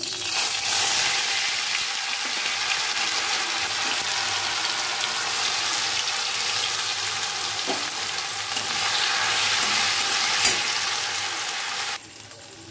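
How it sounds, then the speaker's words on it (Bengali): A steady, loud sizzle of ginger and green chili paste frying in hot oil, continuous throughout with a few faint scrapes, then dropping quieter near the end. "এরপর আমি এখানে আদা বাটা আর কাঁচা লঙ্কা বাটা দিয়ে দেব।"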